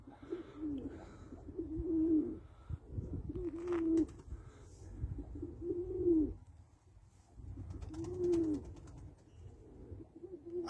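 Newly bought tumbler pigeons, including smoky crested and musk types, coo in a repeated rhythm of deep, rolling calls close by, about five phrases with short gaps between them, without talk.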